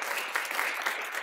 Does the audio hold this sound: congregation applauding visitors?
yes